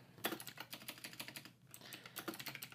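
Steady typing on a computer keyboard, close and quiet, with quick irregular keystrokes, a brief pause midway, then another run of taps.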